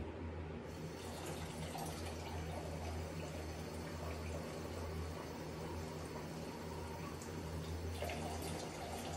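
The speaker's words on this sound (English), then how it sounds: "I got to add enough water to this to make it be 1 cup" Water from a tap pouring into a measuring cup to make one cup of liquid with orange juice for cheesecake, a soft steady stream heard close and alone.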